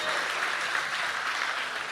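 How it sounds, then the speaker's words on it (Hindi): Audience applause at an Urdu poetry mushaira in Bahrain, dense continuous clapping from a crowd, steady and fairly loud throughout with no pause. "जोरदार तालियों से इस्तकबाल कर रहे हैं।"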